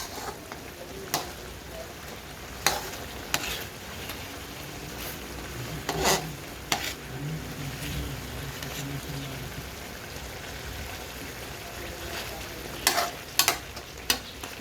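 Chicken and mushrooms fry in a pan after being flipped, a soft continuous sizzle with sharp clicks and scrapes of the utensil scattered through, fairly quiet and close.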